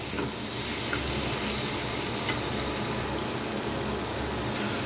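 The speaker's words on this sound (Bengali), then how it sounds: "এখন এটাকে আমি এক থেকে দু মিনিট একটু ভেজে দেবো মশলার সাথে" Hog plums sizzling with spices in a frying pan for pickle, a steady close hiss and spatter running throughout with no talk.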